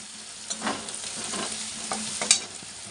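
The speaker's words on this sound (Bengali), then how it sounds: "হলুদ দিয়ে আর একটু ভেজে নেব।" Potato and onion fry with turmeric in a pan, a soft continuous sizzle broken by a few scraping stirs of a spatula, close and with no voices.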